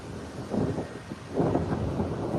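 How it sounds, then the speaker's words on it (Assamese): Thunder rumbles during a heavy rainstorm with lightning, two low rolling booms in quick succession over a steady background of rain and wind. "ৰাজ্যৰ প্ৰান্তে প্ৰান্তে প্ৰচণ্ড ধুমুহা বৰষুণ বিজুলী ঢেৰেকনিৰ তাণ্ডৱ দেখিবলৈ পোৱা গৈছে"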